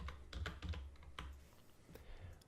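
Rapid keystrokes tap on a computer keyboard in quick clustered bursts, close and fairly quiet, with no voices.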